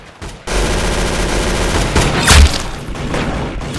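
Gunfire from the Roblox Arsenal shooter game, a burst of rapid synthetic shots with a heavier boom in the middle, loud and continuous over a few seconds.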